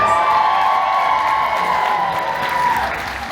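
A dense crowd at a Knott's Scary Farm panel during the Midsummer Scream convention cheers and whoops steadily, loud and continuous, easing slightly toward the end.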